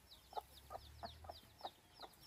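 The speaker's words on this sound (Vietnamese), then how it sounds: "Ui mấy con gà con." Chicks on a rural Vietnamese family farm cluck and peep in a quick, repeated series of soft calls, close by and moderately quiet against faint background noise.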